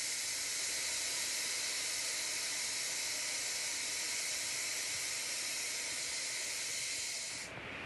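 A pressure cooker hisses out a steady, loud rush of steam while broken wheat cooks inside, the hiss holding constant for several seconds before cutting off abruptly near the end.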